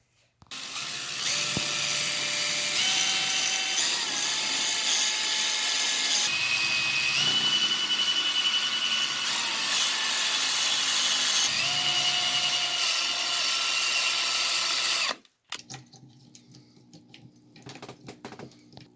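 A power drill whines steadily for about fifteen seconds, its pitch shifting as it deepens a countersink hole for a winch install on an RC crawler, then cuts off, leaving faint handling clatter.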